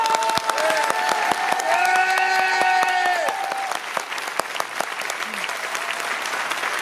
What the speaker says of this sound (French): Vous allez applaudir, c'est parti en dehors.